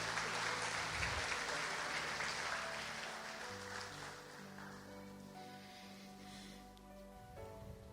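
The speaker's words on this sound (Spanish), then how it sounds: "Démosle un aplauso a estos guerreros valientes." A church congregation applauds, a broad sustained wash of clapping that fills the room, with some organ or keyboard tones sounding beneath it.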